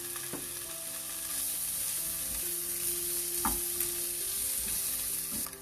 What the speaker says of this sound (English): First we will saute these paneer pieces.